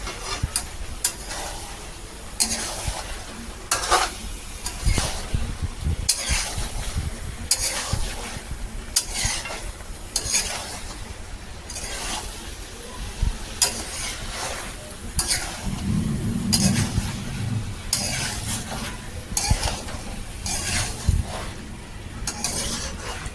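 Potatoes are sautéed with spices in a pan, with steady sizzling and repeated scraping stirs from a spoon running continuously at close range.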